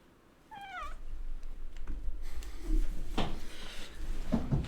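A single short meow from a cat near the start, then rustling and light bumps as it moves off.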